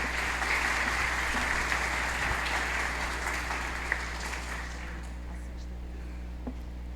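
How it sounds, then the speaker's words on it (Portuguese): A congregation at Easter Mass applauds Padre Sandro, a fairly faint, steady patter of many hands against a low hum of room noise, fading toward the end. "E uma salva de palmas ao Padre Sandro"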